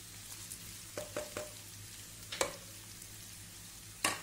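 Four medium onions, finely chopped, frying in hot oil: a soft continuous sizzle with several sharp clicks and taps of a spoon against the pan spaced through the short stretch.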